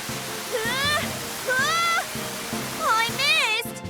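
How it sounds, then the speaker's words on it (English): In a cartoon firefighting drill, hoses spray water in a steady hissing rush beneath animated children's voices that talk and exclaim over it. "spray them with water"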